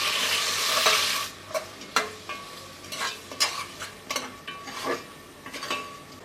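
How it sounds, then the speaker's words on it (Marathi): Onion is stir-fried with whole spices in a pan until golden, opening with a loud hiss as it hits the hot oil, then a sizzle broken by repeated close scrapes and clinks of a spoon stirring against the pan. "यामध्ये आपण कांदा घालूया आणि हा कांदा आहे ना तो सोनेरी रंगावर परतून घ्यायचा आहे"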